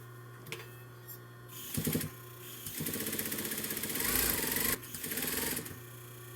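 A sewing machine stitching fabric for a face mask, with bursts of fast rhythmic needle chatter, a brief reverse stitch and a longer steady run, close and moderately loud with short pauses between.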